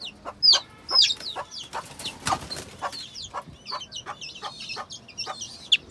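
Native desi chickens and their chicks in a new rooftop coop, close sharp peeping of chicks and soft clucks in quick irregular bursts, with a few rustles of handling in between.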